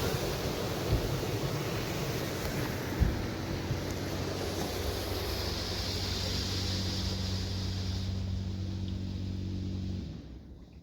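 High-pressure rinse spray from a WashWorld Profile Max automatic car wash at a gas station in New York Mills, Minnesota, a steady loud broadband hiss with a low machine hum, fading out at the end.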